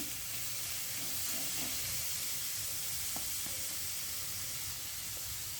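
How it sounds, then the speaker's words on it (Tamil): Onions, curry chilies and mixed vegetables sauté in a hot pan for Jaffna-style puttu kothu, producing a continuous soft sizzle and hiss with a few faint clinks, heard close and alone. "இப்போ வந்து இது எல்லா மரக்கறிகளும் வடிவாக வதங்கி வரட்டும்"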